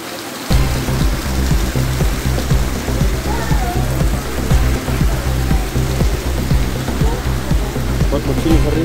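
Heavy rain pours down in flooded Hyderabad streets, a dense, loud hiss and patter that begins abruptly after a brief quiet moment, then stays steady with rushing water beneath.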